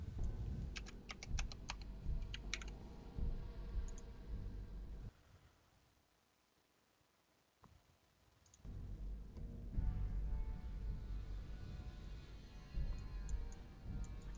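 Typing on a computer keyboard, rapid close key clatter that stops for a few seconds of near silence and then resumes under a low background rumble.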